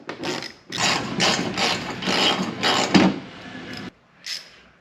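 A 14mm bolt being removed from a Toyota 4Runner fender, with a quick series of ratchet clicks in several bursts, followed by a brief pause and then one last short burst.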